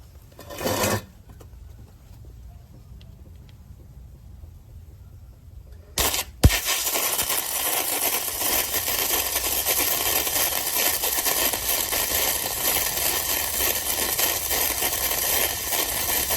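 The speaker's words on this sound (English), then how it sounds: "we're just going to go ahead and run just a quick basic bead on the metal here" A 140A semi-automatic gasless MIG welder runs a bead on heavy metal: a few faint clicks and handling noises, then from about six seconds a steady, loud, continuous crackling sizzle that holds until the end.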